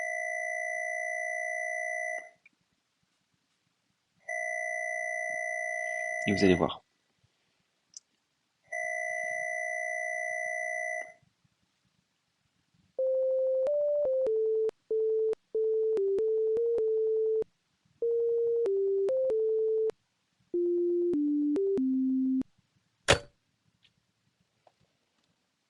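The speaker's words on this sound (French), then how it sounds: "le jeu vidéo FNAF, dont vous venez d'entendre l'une des musiques les plus iconiques. Alors, en version un peu 8-bit" A phone in the Melon Playground video game plays an 8-bit rendition of FNAF music: repeated two-tone electronic chimes, then a stepped melody of pure beeping notes, broken by a brief rattle and a sharp blip.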